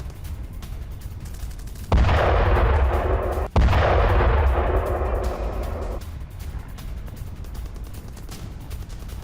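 A Ukrainian ground drone's explosive charge blasts a railway underpass: two heavy booms in quick succession, each followed by a rumbling roar that slowly fades over several seconds.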